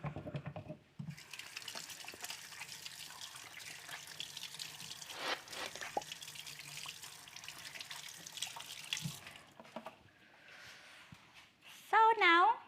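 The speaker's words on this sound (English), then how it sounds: "I will just wash my hand again." Water runs from a kitchen tap as hands are washed at the sink during holiday roast turkey preparation, a steady broadband rush lasting most of the stretch before stopping, with a brief clink and a short voice near the end.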